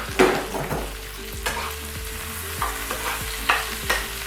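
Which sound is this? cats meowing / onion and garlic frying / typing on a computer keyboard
onion and garlic frying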